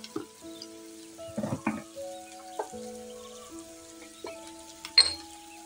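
Amaranth leaves with turmeric and salt being stir-fried in a pan, giving a soft steady sizzle with a few scraping stirs and clinks of the spatula, close by and with no one speaking.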